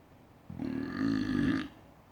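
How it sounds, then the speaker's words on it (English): A single long, loud burp rolls out close by for about a second, deep and rumbling with a buzzing tone, in an otherwise quiet indoor space. "pepper burp. That was a pretty good one."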